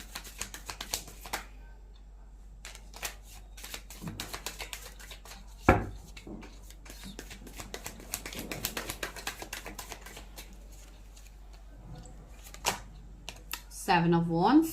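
Tarot cards shuffled and handled during a reading, a run of soft riffling and slapping card sounds with irregular taps, close by, with someone talking over parts of it.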